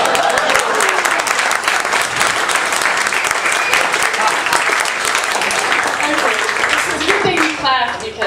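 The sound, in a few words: audience applause after a sung joke at a stand-up class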